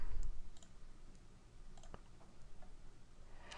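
Single sharp computer mouse click at close range, brief and crisp against a quiet room tone, followed by a few faint softer ticks.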